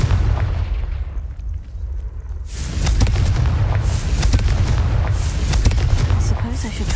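Booming magical blasts from the Confringo spell in Hogwarts Legacy erupt after a quieter opening, a heavy sustained barrage of explosions and crackling bursts filling the rest of the scene.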